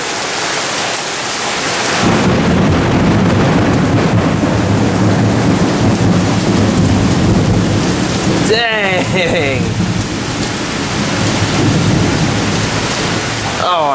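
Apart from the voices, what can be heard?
thunderstorm with heavy rain and thunder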